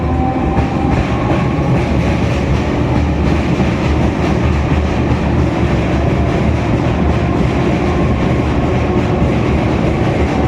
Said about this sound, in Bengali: Arambagh Howrah local Kamarkundu railway station একদম ওপর থেকে গোঘাট লাইন সেই লাইন দিয়ে চলে যাচ্ছে